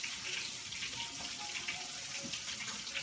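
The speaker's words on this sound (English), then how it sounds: "I'm going to rinse them off." Kitchen tap running steadily as food is rinsed under it, a continuous hissing splash of water at moderate level with no break and no talking.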